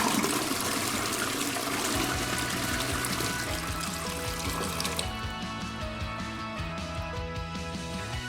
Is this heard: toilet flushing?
yes